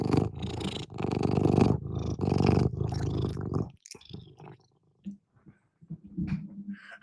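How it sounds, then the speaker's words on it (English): A cat purrs with a low, continuous rumble close by, loud at first, then fading into softer rustles and scattered small sounds. "See if you can hear her purring."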